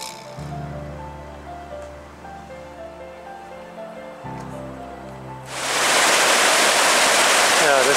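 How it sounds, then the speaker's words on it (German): A mountain stream rushes through the Groppenstein gorge in the Mölltal, Carinthia, Austria, breaking in as a loud, broad roar of water after a stretch of low humming and faint background sound. "Ja, das ist jetzt der Bach."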